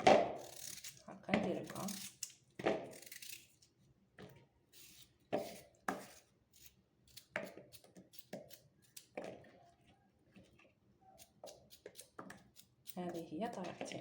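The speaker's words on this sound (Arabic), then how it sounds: "اذا نقطعوا البطاطا تاعنا لمربعات صغيره" Potatoes cut into small cubes with a knife on a board: irregular, close knife chops and taps run throughout while a person talks over them.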